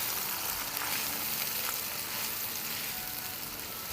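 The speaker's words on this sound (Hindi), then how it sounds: "प्याज को फ्राई होते हुए 2-3 मिनट हो गए" Grated onion fries in hot oil in a home kitchen for a rajma chawal meal, a steady, dense sizzle holding even and close throughout with no voices.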